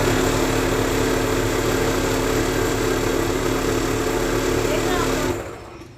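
Sewing machine running a second line of stitching over an existing seam on a patiala salwar: a steady, loud motor hum with even rhythmic chatter that cuts off abruptly near the end.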